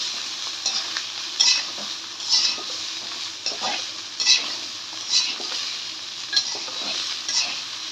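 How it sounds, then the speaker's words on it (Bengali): Sweet gourd, ridge gourd and potato being stir-fried in a pan for vegetable khichuri, with a steady sizzle and repeated scraping strokes of a spatula about once a second, close and clear with no talk. "এবার আমি সবগুলা দিয়ে ভালো করে কষিয়ে নিব।"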